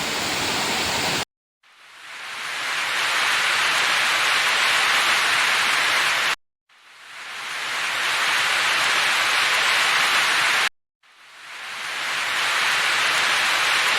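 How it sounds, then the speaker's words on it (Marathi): Steady, loud rain hiss on a terrace in the Konkan fills the air in three long stretches, broken by brief silent gaps, with no voices. "छान असं पावसाचं वातावरण तयार झालेलं आहे"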